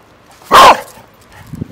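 A single loud dog bark close by, short and sharp, followed by faint low rumbling and quiet movement.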